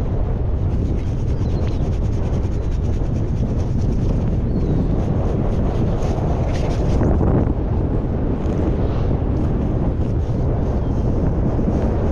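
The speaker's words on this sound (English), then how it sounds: "It's getting really windy." Strong wind on a Long Island shore roaring and buffeting against the microphone, loud and continuous throughout, with no voices.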